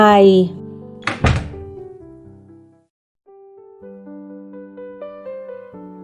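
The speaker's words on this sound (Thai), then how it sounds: "ตามด้วยเสียงปิดประตูเสียงดัง" A heavy interior door slams shut with one loud, sharp thud that rings briefly, set within a Thai romance audiobook narration with a low music bed underneath.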